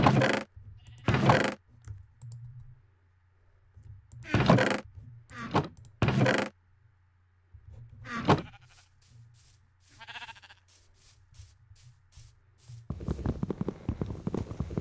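Minecraft sheep bleating in several short separate calls spread across the scene with quiet gaps between them, followed by a denser burst of game noise near the end.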